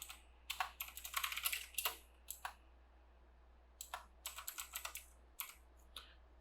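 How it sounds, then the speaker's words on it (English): Quick bursts of typing on a computer keyboard, clustered clicky keystrokes close up with short pauses between runs, against a quiet low hum. "Just type in Windows Activate."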